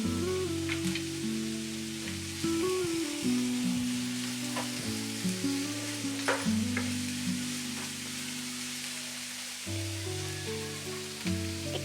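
Onion fries in a pan with a little salt for paneer bhurji. Its soft, continuous sizzle runs quietly beneath steady background music.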